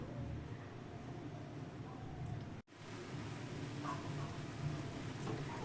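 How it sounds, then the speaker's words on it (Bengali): Saffron-tinted milk bubbles on the stove while being cooked for a palm-fruit sandesh, giving a faint, steady hissing simmer that cuts out briefly midway before resuming. "দেখুন দুধটা ফুটছে"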